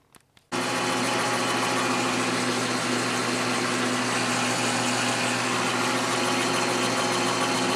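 A metal lathe turns down steel stock for a hammer. It runs as a loud, steady, dense whir with no pauses for several seconds after a brief quiet start.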